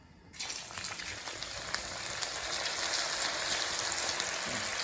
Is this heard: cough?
no